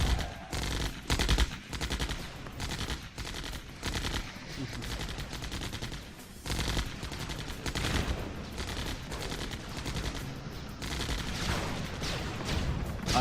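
Cannon and gunfire from units in the strategy game Mental Omega crackle in rapid, dense bursts and steady volleys throughout, with little talk over it.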